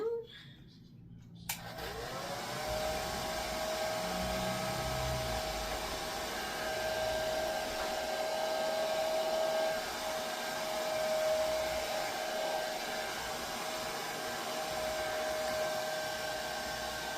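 A heat gun or hair-dryer-style blower runs with a steady, close whooshing hum as it warms a clear vinyl bag to soften the corners, continuing without a break after a brief start.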